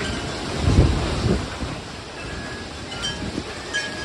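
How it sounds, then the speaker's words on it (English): Strong derecho storm wind gusting in Cypress, Texas, a broad roaring rush that swells in loud bursts around the first second and again later, with no voices. "There was a lot of spin in that wind that just went by."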